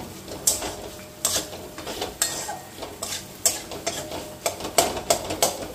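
Chicken curry cooked in mustard and white oil is stirred in a pan, making steady rhythmic scraping strokes about twice a second, close and clear with no talk.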